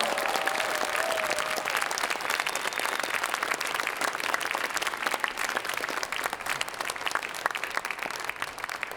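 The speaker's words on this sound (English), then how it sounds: "Give them a round of applause." Hearty, sustained applause from a concert audience saluting a student percussion ensemble after its CASMEC performance, dense clapping filling the hall evenly from start to finish with crisp individual claps poking through.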